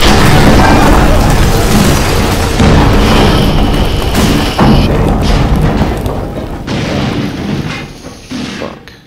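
Loud gunfire and booming blasts from The Quarry horror video game, a sustained dense burst of sharp impacts that gradually tapers toward the end, with no talk over it.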